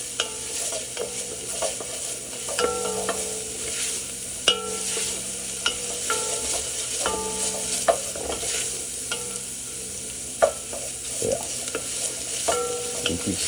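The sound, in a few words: stirring food frying in a hot pan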